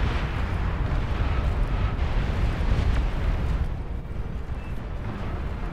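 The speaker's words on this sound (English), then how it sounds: "Nuclear missile launch detected" A nuclear missile launch in Beyond All Reason, a dense, loud, continuous roar with deep rumbling that barely fades over several seconds.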